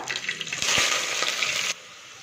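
Sliced onions dropped into hot oil where mustard seeds have already popped, for a channa soya masala: a sudden loud burst of close sizzling that holds for about a second, then cuts back to quiet background.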